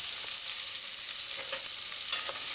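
Diced scallion and onion sauteing in oil in a pan over a medium-low stove, giving a steady, soft hiss of sizzling that runs on its own without any talking.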